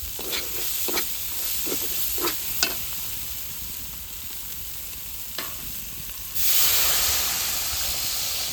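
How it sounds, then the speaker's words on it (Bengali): Oil with turmeric and spices sizzles in a pan over a wood fire, with a few spoon taps, then water goes in and a louder hissing rush of steam takes over. "হলুদ মশলার তেল ছেড়ে দিয়েছে এবার জল দিয়ে দেবো"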